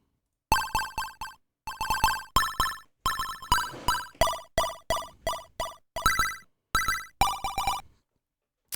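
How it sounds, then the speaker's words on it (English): A bare chiptune square-wave synth tone from a maxYMiser tracker plays alone in loud, buzzy staccato notes, a repeating rhythmic pattern of short bursts with brief gaps, ending in silence. "it sounds like a boring old square wave"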